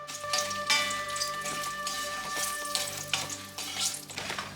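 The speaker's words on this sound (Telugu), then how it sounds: "నూనె వేడెక్కాక 100 గ్రాములు ఎండుమిరకాయలు వేసుకుందాం." About 100 grams of dried red chillies fry in two spoons of hot oil in a village-style pan, a steady crackling sizzle with bursts of popping and some stirring, close and fairly loud, under a faint steady hum.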